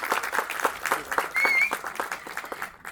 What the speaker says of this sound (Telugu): ఈ ఆడిటోరియం అంతా కూడా చప్పట్లతో దద్దరిల్తే చూడాలని ఉంది